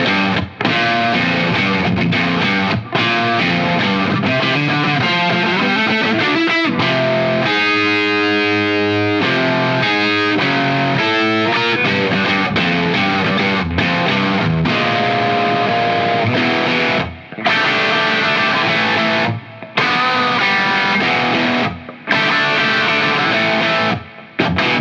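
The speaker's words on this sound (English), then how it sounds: "and there will be a distortion sound" Electric guitar played through a Wampler Tumnus Klon-style overdrive pedal, a loud, saturated distorted tone with sustained chords and riffs ringing continuously, broken by a few brief pauses near the end, with no voices.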